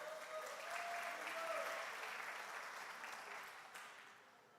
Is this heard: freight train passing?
no